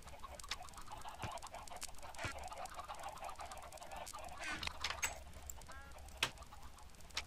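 Minecraft chickens on a chicken farm cluck in scattered short calls over a faint hum, with several bird noises overlapping at low volume and a few clicks.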